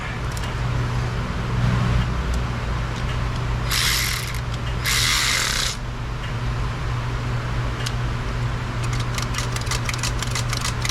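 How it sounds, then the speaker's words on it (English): An engine's throttle linkage is worked through its travel by hand, giving ratcheting mechanical clicks and bursts of hiss over a steady, loud, close background hum, with no talking. "let's function check the throttle"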